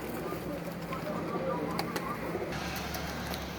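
Pigeons cooing in a loft holding about ten birds, low soft coos repeating under a steady background hum, fairly quiet and unbroken by talk.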